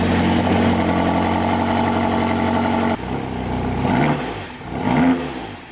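A BMW X5M's S63 engine running after an oil change, first a steady, dense idle hum, then a sudden drop followed by uneven swells and blips, close and fairly loud.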